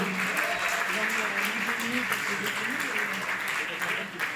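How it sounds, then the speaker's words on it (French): An audience at a political party seminar applauds its elected local officials, a dense, sustained wash of clapping that fills the room without pause, with faint voices mixed underneath. "Et je pense qu'il faut les applaudir."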